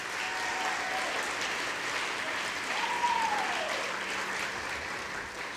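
Sustained applause from a banquet audience at a conference softball awards dinner, a steady wash of clapping with a brief whoop partway through.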